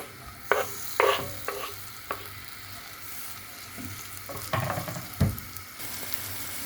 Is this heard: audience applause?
no